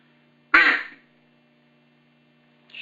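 A single loud, sharp quack-like note made with a duck call using the "goot" technique, bursting out after a moment of quiet and fading quickly, with the start of another note cutting in at the end.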